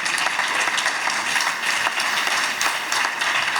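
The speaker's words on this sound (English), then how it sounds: "Let's give them, the ladies, an applause." Audience at a company Christmas party applauding, a dense steady wash of many hands clapping throughout, fairly loud and slightly distant.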